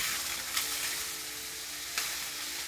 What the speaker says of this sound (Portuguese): Eu vou refogar aqui por uns 5 minutos.